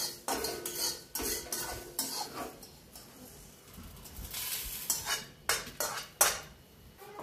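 Coriander seeds and whole spices such as cloves and cinnamon dry roasting in a pan, with repeated scraping and clinking strokes of a metal spatula against the pan in irregular bursts, close up and without talk.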